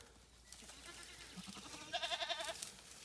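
A goat bleats in a quick run of wavering calls near the end, preceded by a few softer grunts against quiet outdoor background.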